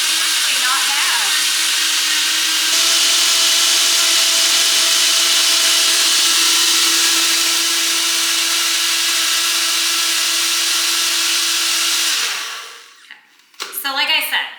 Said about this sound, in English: And then you're gonna blend all of this.